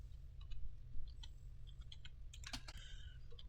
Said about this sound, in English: Let's say I type in 5600X compatible